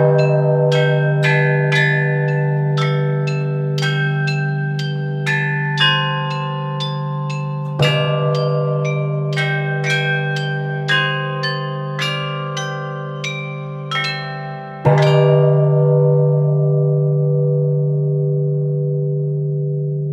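Chinese bronze bells (bianzhong) struck one by one in a slow melodic line, each clear metallic strike ringing into a long sustained hum, with a louder accented strike near the end, played alone.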